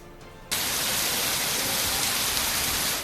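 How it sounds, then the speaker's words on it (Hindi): Heavy rain pours down in Karachi, a dense, loud, steady hiss that cuts in abruptly after a half-second of quieter background and continues unbroken to the end. "कराची में दूसरे रोज भी तेज बरसात"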